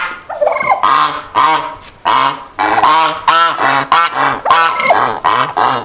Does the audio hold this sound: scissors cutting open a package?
no